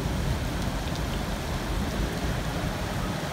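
Heavy rain pouring down in Berlin, a steady dense roar of water hitting surfaces, loud and continuous throughout with no voices.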